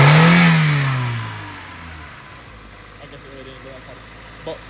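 Engine of a 1995 Honda Civic with a misfire revving on the throttle: a loud rev that falls away into a rough, uneven idle, heard close.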